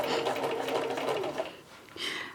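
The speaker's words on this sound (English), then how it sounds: "I'm going to hold these threads in the back, and we are going to start stitching." A sewing machine runs steadily, stitching vegan leather with a foil finish, its motor buzz continuous for about a second and a half before a short pause and a brief second burst.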